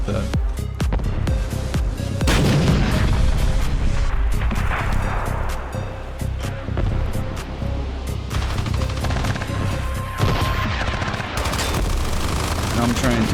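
Gunfire and artillery from the Armored Brigade 2 war game roar almost nonstop, dense machine-gun bursts and heavy booms layered together, loud and continuous throughout.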